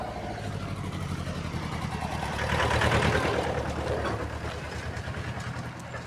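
A tractor engine rumbles past on a village road, its chugging growing louder midway and then easing off as it moves on.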